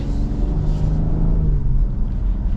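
A 2024 Cadillac CT5 accelerates on the road, its engine drone loud and steady with low rumble and a brief rising tone as the gears shift, heard from inside the car.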